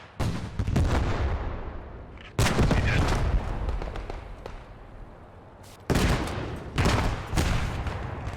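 MP40 submachine gun fire in the World War II game Post Scriptum at Carentan, loud bursts with sharp onsets near the start, middle and end, each decaying into rumble.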